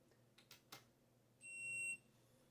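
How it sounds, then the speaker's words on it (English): A Sega Dreamcast VMU gives a single short, thin electronic beep at power-on, about half a second long, preceded by a few faint clicks of handling in a quiet room. "these VMUs always make a little beep noise when they first power on"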